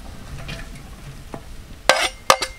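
Half-sautéed onions and shallots with chopped ginger, green chilli and garlic sizzle softly in a pan, then a spatula stirs them with two sharp, loud scrapes close by.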